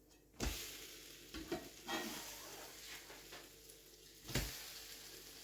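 A quick breakfast fries in a pan after being flipped, with a soft continuous sizzle broken by several louder knocks and scrapes of a utensil against the pan, fairly quiet overall, no talking.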